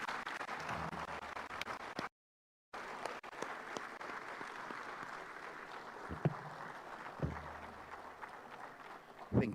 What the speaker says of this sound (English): Let us all rise to give the Speaker and his entire delegation a round of applause